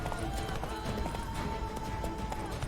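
A horse gallops in The Witcher 3, steady rhythmic hoofbeats under continuous game ambience and a faint tone, with a voice talking lightly over it.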